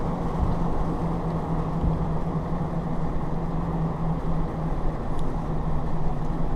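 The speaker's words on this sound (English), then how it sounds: "And you see you drive along this sandbar." A vehicle drives along a beach sandbar, its engine and tires making a steady low rumble throughout, close and continuous with no speech.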